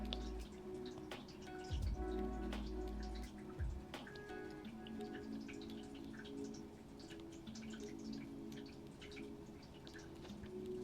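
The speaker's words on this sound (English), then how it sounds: "My little office water feature." Small tabletop waterfall feature in an office trickling and dripping steadily, close and fairly quiet, with soft music playing underneath.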